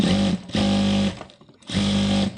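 A sewing machine running through fabric being stitched in a swirl pattern, three loud, close bursts of rapid humming stitches, each about half a second long, with short pauses between and no talk.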